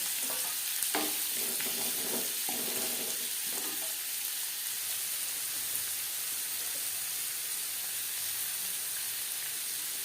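Chopped onion and slit green chillies fry in a pan, a steady close sizzle with a few scraping stirs early on, then an even hiss with no voices.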